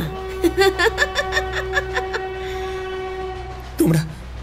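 A train horn sounds a sustained tone with rhythmic clanking, and a brief second horn blast follows near the end.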